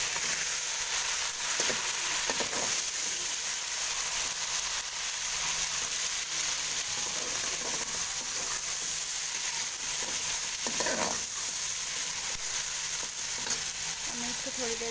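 Spinach frying in a pan, a steady hissing sizzle that runs throughout at moderate loudness, with occasional soft stirring scrapes and no talk.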